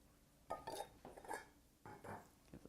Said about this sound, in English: Give this all a good stir.